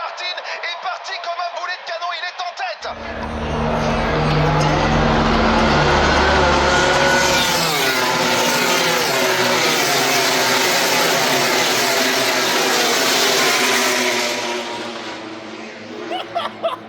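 A pack of racing cars at the start of a sprint race roars past as one loud, sustained wall of engine noise that swells after a short stretch of muffled voices, then fades, with a voice talking near the end.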